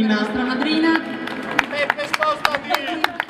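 An audience at the Premio Internazionale Città di Napoli award ceremony in Naples starts clapping after a voice, with scattered, sharp individual claps building into thin, irregular applause.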